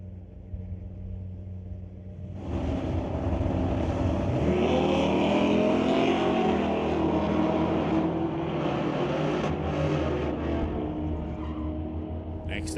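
Drag race cars, an S10 and a 1969 Acadian, launching and running down the track; a loud engine roar bursts in after a quieter idle and holds steady, with an announcer talking over it.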